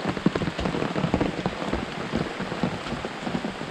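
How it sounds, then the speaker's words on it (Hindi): Heavy rain pours through a forest on a steep trail in Karnataka, India, a dense, steady hiss of drops on leaves and ground, loud and close with no talk over it. "बारिश भी बहुत हो रही है इधर"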